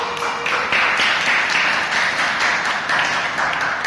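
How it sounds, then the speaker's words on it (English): A small room of people at a Toastmasters club meeting claps together in a steady, moderately loud burst that holds for several seconds, with no voices over it. "Clap, please."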